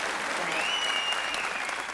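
An audience at a Tamil comedy debate show in Theni gives the speaker Devakottai Maharajan a burst of enthusiastic applause, a dense and steady clapping that fills the whole moment without a break.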